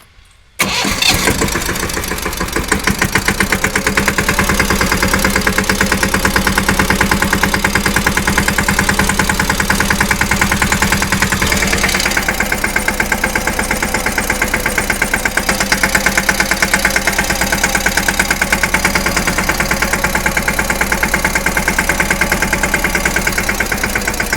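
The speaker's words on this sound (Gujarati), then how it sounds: "રીધી હાકે ટ્રેક્ટર" A tractor engine starts and then runs steadily at close range, loud and unbroken throughout with a rough, chugging idle and no voices.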